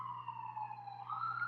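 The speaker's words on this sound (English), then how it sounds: "I'm sorry about that siren" An emergency vehicle siren wails outdoors, a steady sustained tone sliding slowly in pitch, loud and continuous through the whole stretch with no talk.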